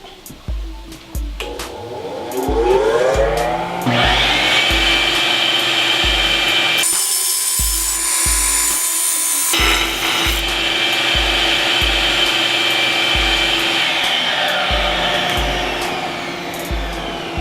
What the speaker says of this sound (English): let's grind that smooth